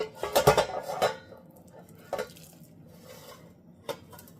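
Batter is scraped from a small bowl into a loaf pan: a cluster of clattering scrapes and knocks, then two more isolated clinks spaced apart, fairly close.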